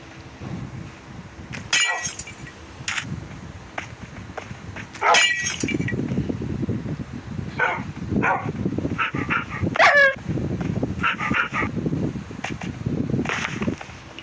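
Dogs at a dog house bark in sharp, scattered bursts, with a brief high whimper midway, over a continuous low background rumble.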